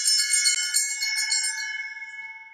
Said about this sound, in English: I'm just going to ring this fantastic elephant bell that I have.